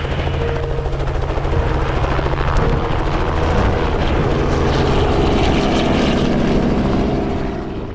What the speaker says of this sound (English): the helo's 45 seconds out